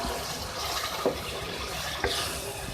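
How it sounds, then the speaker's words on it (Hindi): Water poured from a cup into a pan of cooking chicken liver, a steady running splash at moderate level with a couple of brief louder spots, and no talking. "अब मैं इसमें डालूँगी 1 कप पानी।"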